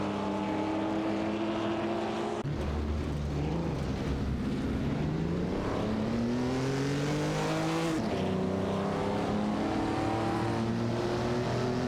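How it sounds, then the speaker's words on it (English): A classic Jaguar D-Type and Maserati 450S race in a racing video game, their engines droning and rising in pitch continuously, loud and steady, with no voices. "It's a clash of classic cars as the Jaguar D-Type and Maserati 450S navigate"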